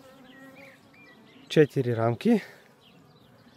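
Honey bees buzz at a beehive, a faint steady hum in the background, briefly covered by someone speaking in the middle.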